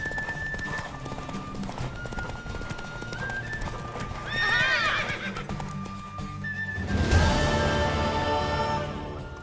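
In The Witcher 3: Wild Hunt, hooves clatter in a fast galloping rhythm, and a horse whinnies loudly twice over the pounding steps.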